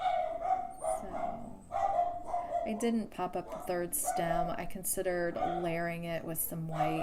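A dog barks downstairs in a house, repeated sharp yips and barks scattered through the clip at moderate loudness, mixed with someone talking.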